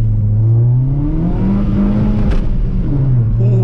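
A Suzuki Swift Sport fitted with a Sprint Booster accelerates hard with some wheelspin, the engine droning loud and close from inside the cabin, pitch rising gradually with a short dip near the end.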